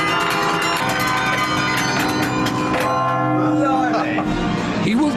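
Church bells ringing from a bell tower, a dense metallic wash of overlapping strikes and long ringing tones that stays loud and steady throughout, with faint voices mixed underneath.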